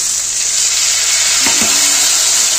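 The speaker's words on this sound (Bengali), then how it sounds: "দিয়ে মশলাটাকে ভালো করে কষিয়ে নেব।" Spices, turmeric and chopped tomato with a splash of water sautéing in a pan for a vegetarian phuluri and potato curry, a steady close hiss of sizzling with a brief stir partway through, no talking.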